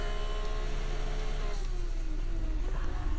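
Race car engine in the F1 24 video game, a continuous close droning whine with a pitch that slowly falls, heard alone.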